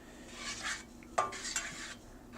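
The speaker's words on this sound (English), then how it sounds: "Now we're just going to work the butter around the pan," Butter being worked around a hot pan with a utensil while making budget bulking meals, giving soft scraping and stirring strokes with a faint sizzle underneath and a sharper clink near the middle.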